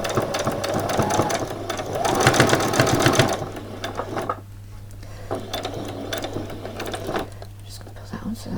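A sewing machine runs a back stitch while a frilled top is sewn, with bursts of fast rhythmic whirring that stop and start again. A person speaks quietly over and between the bursts.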